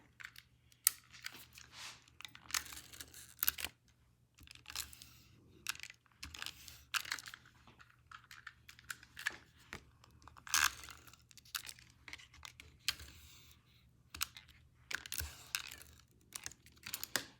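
A tape runner rolled across the front of a handmade fairy greeting card, giving soft, close ticking and scraping bursts at an uneven pace over a quiet background, with no talking.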